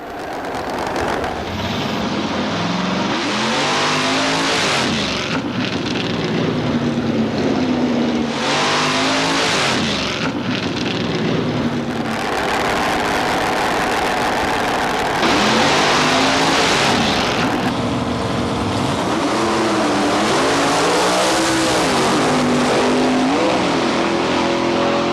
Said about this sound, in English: Ronnie Sox was strapped into his injected Hemi Barracuda funny car.